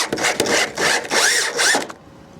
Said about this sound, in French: on pivote et on visse